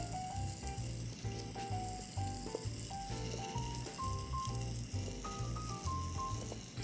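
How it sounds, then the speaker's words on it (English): Venison sears in a hot pan with leeks, spring onion and celery root close by, a steady close sizzle and crackle running throughout, with faint clinks from the pan and utensils. "So right now I'm building fond in the bottom of this pan"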